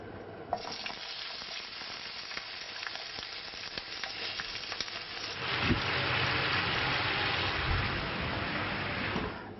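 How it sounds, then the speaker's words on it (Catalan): Vegetables sautéing in a little virgin olive oil in a frying pan, a steady hiss of sizzling that swells louder and denser partway through as the pan heats up, with no voices over it. "Agafam una paellera, posam un poquet d'oli verge i afegim les verdures per saltejar-les."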